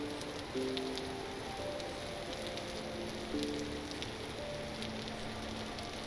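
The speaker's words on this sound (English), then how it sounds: "Oh, it's raining again." Rain falls steadily in the video game Vintage Story, a soft, even hiss of drops on surfaces. Faint tonal chimes from the game's background drift in and out, and no one talks over it.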